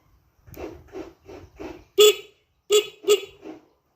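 A car horn sounds in a series of short beeps, the first few softer, then several louder toots with brief pauses between.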